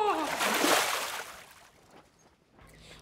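A loud watery splash of a person falling overboard from a boat, right at the start, fading into sloshing and gentle water movement.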